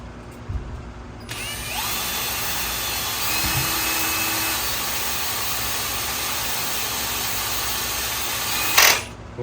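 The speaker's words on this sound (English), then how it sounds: "I'm drilling it out." A power drill whines steadily at close range for several seconds while drilling out a broken bolt on a Buick Grand National engine, then spins down and stops.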